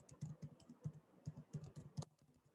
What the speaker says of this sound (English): I'm just going to be typing in my email address so that people can reach out.